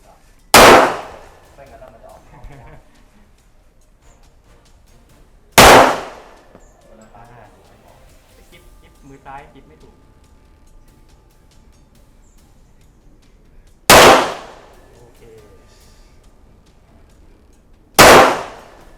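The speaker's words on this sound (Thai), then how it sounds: "ผู้ยิงพร้อมนะครับบรรจุแม่เข้าตัวปืน ปิดสไลด์เรียบร้อยนะครับ พร้อมแล้วเริ่มยิงครับ ยิงได้เลย" Four loud, sharp pistol shots from a Colt 1911 .45 Gold Cup National Match on a shooting range, spaced several seconds apart and ringing briefly, with quiet background between them.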